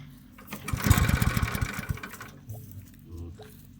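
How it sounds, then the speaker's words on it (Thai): A small engine revs up with a rapid, rattling putter, then settles back to a lower chug over a few seconds. "ก็เร่งเครื่องช่วยนะครับเร่งเครื่องช่วย"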